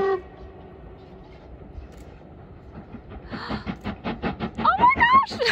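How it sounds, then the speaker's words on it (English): A steam train, the Hogwarts Express, crosses a tall viaduct bridge in the Scottish Highlands, rising from a low rumble into loud rhythmic chuffing with a brief whistle-like tone near the end. "watch the Hogwarts Express go over the viaduct bridge like it does in the movie"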